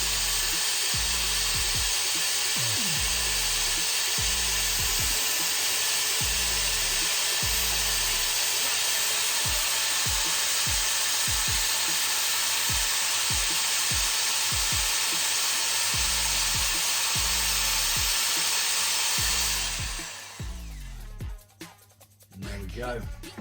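Forest berry mead with mixed fruit is mixed in a steady rhythm of repeated low churning strokes over a constant whirring hiss, then the motion stops near the end.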